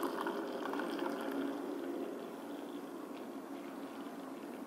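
Frothy drink being poured into a cup with the froth held back, a soft continuous liquid pour with fizzing bubbles, fairly faint and close, no talking.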